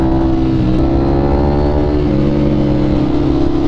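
Two superbikes, among them a Yamaha R1, S1000RR and CBR1000RRR SP, cruise together with engines droning in near unison, a loud steady hum with slowly drifting overlapping tones and no breaks, close to the rider.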